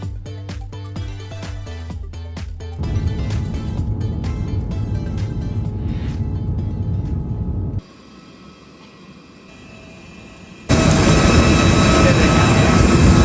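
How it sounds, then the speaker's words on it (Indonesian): Super Air Jet airliner flight: steady loud engine and cabin roar throughout, with a quieter stretch near the end before the roar returns louder, no talk over it. "kali ini kita naik pesawatnya Super Airjet"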